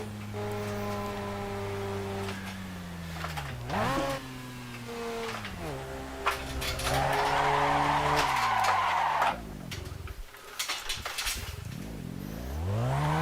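Mazda RX-7 on slick tires in a Nordschleife endurance racing simulation, braking hard from a slight right: engine tones drop and sweep, tire skid and squeal noise swells midway, loud and close.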